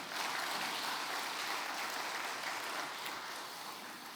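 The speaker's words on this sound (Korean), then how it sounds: "다시 한번 박수로 화답하겠습니다." Church congregation applauding after a worship song, a continuous wash of clapping heard at moderate distance that stays even and unbroken before tapering slightly.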